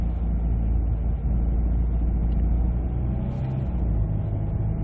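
A 2019 Kia Carnival minivan fitted with an engine power-boosting and emission-reduction device accelerates on the road, giving a steady low engine drone with a smooth continuous hum heard from inside the cabin.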